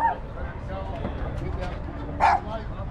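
A dog barks a few times at an evening outdoor gathering in Hercules, California, short yips mixed into nearby chatter and crowd noise.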